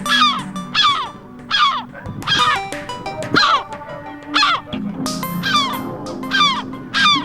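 Gulls call angrily in rapid repeated bursts of harsh, loud cries as their eggs are destroyed in the nests, several birds overlapping close by with short pauses between volleys.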